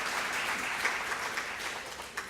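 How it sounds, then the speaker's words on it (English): A conference audience claps in a steady round of applause, moderately loud and even throughout, with a few sharper individual claps standing out near the end. "I think she deserves a round of applause for what she's done."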